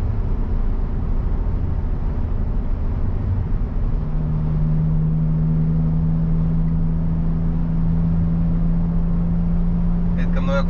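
A BMW 535xi E61 estate with about 370 hp drives slowly over a broken, rough country road, its steady low engine and tyre rumble continuous, with a drawn-out drone settling in partway through.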